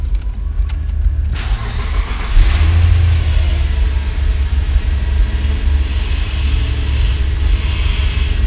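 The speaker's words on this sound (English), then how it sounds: "Let's just start the car." A 2004 car with a newly installed sound system is started. A short crank catches after about two seconds and settles into a steady, close idle rumble that continues to the end.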